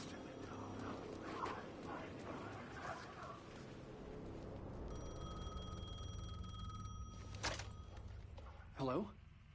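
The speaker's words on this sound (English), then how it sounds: "phone was ringing again." An old telephone rings in the Alan Wake II video game, a steady electronic tone under a narrator's voice and low ambience, followed by a sharp thump and a brief rustle near the end.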